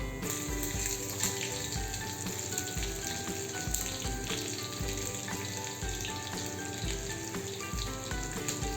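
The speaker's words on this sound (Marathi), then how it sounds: "त्याच्यामध्ये आपण इथे धने घालूयात. त्याच्यानंतर लसणाच्या पाकळ्या," Coriander seeds and garlic cloves sizzle in hot ghee for a dal tadka, a steady dense crackling fry that runs the whole time with small pops and no talk.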